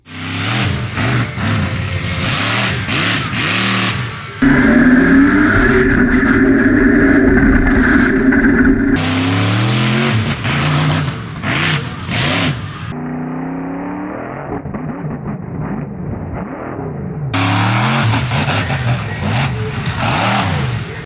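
A monster truck engine at Truckfest Malvern revs hard and loud through repeated jumps, its pitch surging and falling in long sweeps with brief cuts between bursts, with no voices over it.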